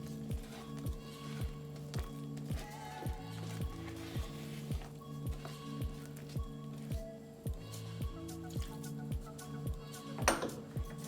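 Cake batter being folded by hand with a spatula in a bowl for a no-oven cake, giving a steady rhythm of soft, wet squishing strokes against the bowl, close and moderately loud, with a brief clink near the end.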